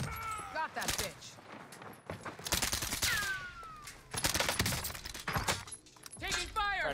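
Bursts of gunfire in Call of Duty Warzone, with rapid volleys and sharp impacts at close range, broken by short pauses and mixed with talk and game voice lines.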